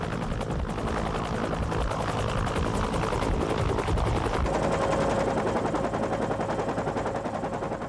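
A Cobra attack helicopter thumps loudly overhead on a tactical training flight, its rotor chop steady while rapid bursts of gunfire rattle over it, with no voices.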